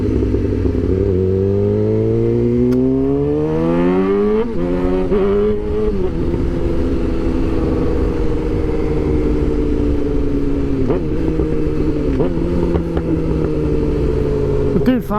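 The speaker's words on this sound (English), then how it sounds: "I'm using that back brake and some downshifting" Motorcycle engine up close, revs climbing then dropping in stepped downshifts while the rider brakes, with clunks and clatter over a steady roar; a voice talks faintly beneath.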